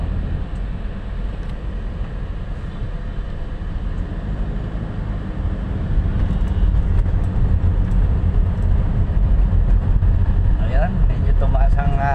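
Heavy traffic on EDSA in Ortigas, heard from inside a vehicle, a constant low engine and road rumble that grows louder partway through, with a person talking over it.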